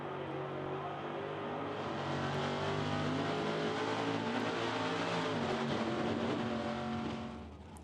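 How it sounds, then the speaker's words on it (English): A drag racing car at Santa Pod, its engine running poorly, gives a loud sustained rough roar with uneven harmonics for several seconds before fading slightly at the end, heard without any talk. "problems for Matt, the car not sounding happy at all"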